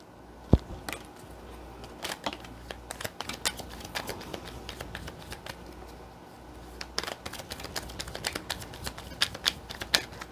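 Tarot cards being shuffled in quick crisp riffles and flicks, close and clear, with pauses between bursts.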